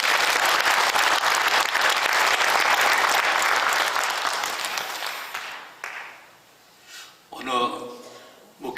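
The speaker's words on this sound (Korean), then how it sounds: "감사의 박수와 하나님께 영광의 박수 하겠습니다" A church congregation claps together in loud, sustained applause after a sermon, praising the preaching pastor; the clapping fades out over several seconds and gives way to scattered voices.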